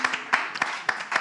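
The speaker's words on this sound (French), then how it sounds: "On va applaudir l'invité." Scattered handclaps from a small studio audience applauding a guest on a French talk show, a few uneven bursts rather than sustained applause, fairly quiet.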